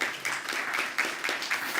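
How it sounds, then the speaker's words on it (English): People at an anniversary celebration clap for a guest, a moderate burst of applause with distinct clustered claps that pulse in an uneven rhythm, fairly close and without speech over it. "Why don't we give a clap to Lois?"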